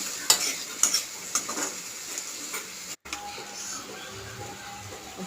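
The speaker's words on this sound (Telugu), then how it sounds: "అందులోనే ఉల్లిపాయలు, పచ్చిమిరపకాయలు వేసుకుని బాగా మగ్గించుకోవాలండి" Onions and green chillies sizzling in hot oil in a pan, with a spoon stirring and scraping in short clattery bursts over a steady frying hiss, close up and moderately loud.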